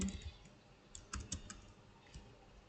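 Keys clatter on a computer keyboard as values are entered into a spreadsheet formula: a handful of quiet, scattered keystrokes in a short irregular burst, close and faint.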